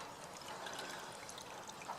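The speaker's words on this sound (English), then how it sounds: "So we're now getting clean fuel out" Clean diesel fuel draining from a motorboat fuel tank through a filtering system, a steady soft trickle of liquid running continuously and quietly, with no voices.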